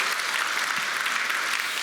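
A church congregation at a Sunday worship service gives a short burst of steady applause, moderately distant and even throughout, with no voices over it.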